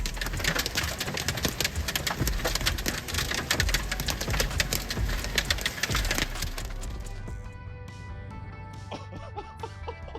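Freezing rain falling in central Iowa, a dense crackling patter of ice drops striking a hard surface, steady and close, easing off toward the end with quieter ticking.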